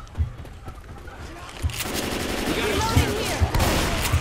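Rapid automatic gunfire aimed at a Tank in Left 4 Dead 2 on a De_Dust 2 mod map, rattling bursts that build from sparse shots to a loud continuous fusillade, with a voice calling out over it.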